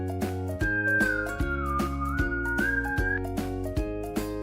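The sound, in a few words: whistling by blowing through puckered lips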